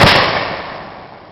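A single loud, close blast from a Confederate muzzleloader musket, a sharp crack followed by a long, rumbling decay as the report fades.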